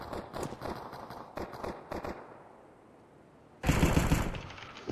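Automatic gunfire in Counter-Strike 2 on the Cobblestone map, with several rapid close bursts, a short lull, and then a loud sustained burst.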